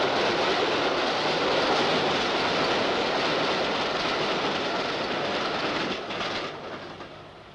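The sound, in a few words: train running on railway line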